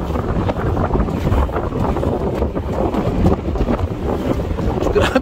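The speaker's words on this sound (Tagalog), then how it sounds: "Grabe, ang lakas ng hangin." Strong wind at sea by the Manamoc sandbar buffets the microphone in a steady, roaring rush, with open water and boat noise churning beneath it throughout.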